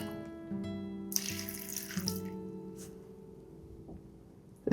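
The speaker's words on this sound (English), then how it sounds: "just gonna water it." Tap water runs in a steady stream, close and fairly loud, as a potted starfish snake plant (Sansevieria) is watered indoors, with a brief gush and splash partway through and no one talking.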